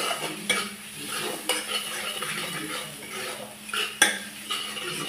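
A spoon stirs turmeric, coriander and cumin powder with salt and sugar in a pan for dal fry, giving repeated close scrapes and metallic clinks over a light sizzle.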